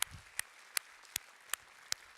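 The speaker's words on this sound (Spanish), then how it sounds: "Yo aplaudo también al Señor." Sparse, evenly spaced hand claps from a congregation during a Spanish-language church worship service, about six sharp claps in steady rhythm, quiet and somewhat distant, with no talking.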